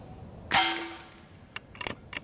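An AEA HP Varmint PCP air rifle fires one sharp, loud shot of FX pellets that rings briefly, then a few quieter clicks and knocks from handling follow.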